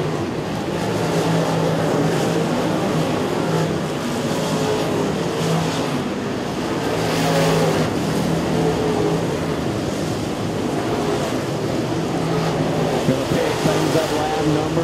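Crate late model race cars roaring around Smoky Mountain Speedway during an American Crate All-Star Series main event, a continuous loud engine drone with swells as the pack passes, under faint commentary.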